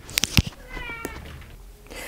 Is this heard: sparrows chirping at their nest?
no